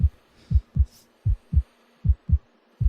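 A slow, heavy heartbeat thuds through a horror game, Nemeses, in paired lub-dub beats repeating about every half second over a low hum, close and loud with no talk.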